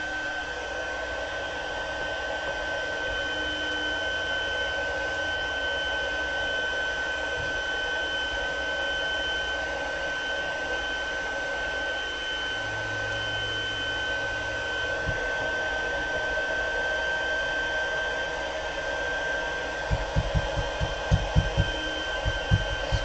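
A heat embossing tool blows hot air onto embossing powder on a card, a steady, fairly loud whirring hiss that runs unbroken throughout, with a few soft knocks near the end.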